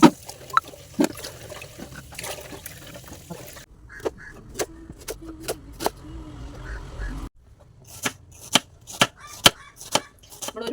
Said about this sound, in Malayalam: ഒരു ഉള്ളി എടുത്ത് ചെറുങ്ങനെ കുനുകുനാന്നരിഞ്ഞു